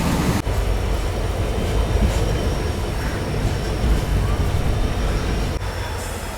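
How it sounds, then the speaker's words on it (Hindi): Passenger train running through the Thar Desert in heat, heard from inside a general coach: a continuous loud rumble of wheels and carriage with faint rhythmic clatter. "ये देख लो, रेगिस्तान में ट्रेन चलना शुरू हो गई है यहाँ पर।"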